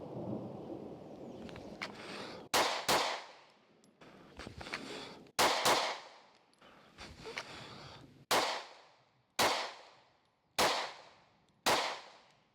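A concealed carry pistol is fired outdoors in about ten sharp, loud reports that each ring out and fade, coming at irregular intervals at first and then at a steady, evenly spaced pace.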